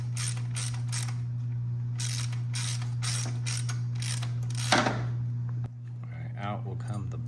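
A hand ratchet clicks in quick repeated bursts while backing out a bracket bolt on a 1966 Lincoln Continental, close and crisp over a steady hum, followed by a brief metallic clatter and a short stretch of speech.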